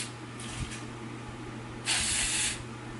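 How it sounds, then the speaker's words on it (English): Hairspray from a can sprayed onto freshly curled hair: two bursts of bright hiss, a short faint one early and a louder one of about half a second near the end, close over a low steady hum. "then I spray it with hairspray"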